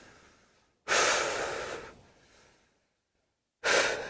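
A person takes deep breaths during a movement routine: a long, loud inhale, a softer exhale fading out, a brief silence, then another strong breath, all close up and with no speech.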